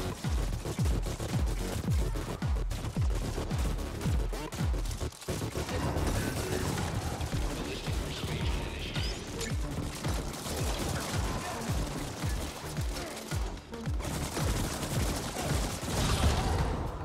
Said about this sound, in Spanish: No dejar que se aproximen, porque si no, con la ametralladora esa, nos revientan.